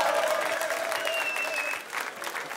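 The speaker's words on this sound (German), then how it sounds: "Berlin, ein bisschen Applaus für die beiden Jungs." A crowd at a freestyle rap contest in Berlin applauds in dense, sustained clapping with some cheering, dipping briefly near the end before picking up again.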